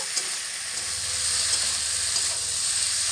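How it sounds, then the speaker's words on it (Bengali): Yardlong beans and potatoes fry with spices in a pan over medium heat, a continuous bright sizzle with faint stirring underneath, close and steady, with no talking. "বরবটি আলু দিয়ে মশলার সঙ্গে মোটামুটি 2 থেকে 3 মিনিট মতো একটু মিডিয়াম আঁচে রেখে কষিয়ে নেব।"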